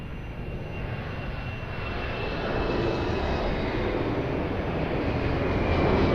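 An airliner taking off at Lisbon Airport, a broad engine roar that builds steadily and grows louder over several seconds, heard alone with no talk.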